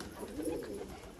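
High-flyer pigeons in a home loft give a steady, low throaty cooing that carries close and continuous through the whole moment, with no one speaking.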